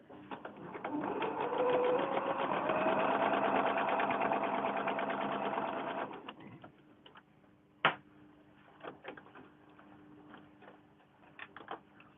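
A sewing machine stitching quilt blocks for a mini quilt runs in a fast steady whir for about six seconds, then stops, followed by quiet handling clicks and taps.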